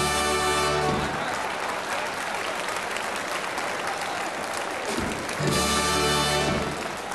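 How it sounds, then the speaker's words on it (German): Dense applause from a carnival show audience at a Hessian Fastnacht session, steady and fairly loud, with a band playing briefly at the start and again near the end. "klatsch doch nicht so fest"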